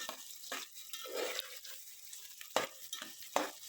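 Onion for veg biryani frying until soft in a pan, with a continuous sizzle and several sharp scraping stirs of a spoon, close and fairly quiet.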